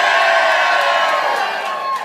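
A live audience at a small-town Christmas show cheers and whoops loudly, a dense steady roar of many voices that fades slightly toward the end.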